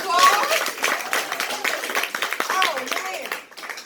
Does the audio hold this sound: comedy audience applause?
yes